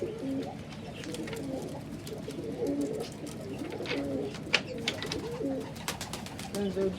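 Pigeons coo repeatedly in a loft, soft rolling calls overlapping from several birds, with someone talking intermittently over them.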